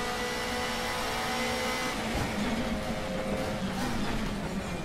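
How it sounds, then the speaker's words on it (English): A racing car in the DTM Experience driving game during a turbo boost, heard as a loud, dense, steady engine roar with whining tones and a slight rise partway through, with no talk. "Oh, turbo boost."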